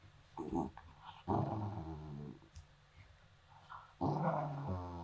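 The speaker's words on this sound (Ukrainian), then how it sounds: "яка ти страшна собака" A dog growls in deep, rumbling bursts at close range, with several loud stretches separated by brief pauses.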